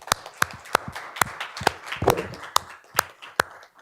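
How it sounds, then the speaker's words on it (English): A small group at a board of education meeting gives a round of applause, with sparse, distinct claps, a few loud peaks and a brief cluster in the middle, close and without talk. "a round of applause for Sam"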